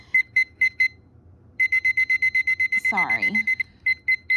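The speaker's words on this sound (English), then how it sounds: "I'm going to set a timer for 1:30." A digital timer alarm beeps in rapid repeated pulses, first in a short burst of four, then a longer steady run, while a voice briefly speaks over it near the end.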